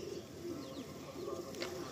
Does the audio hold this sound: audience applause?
no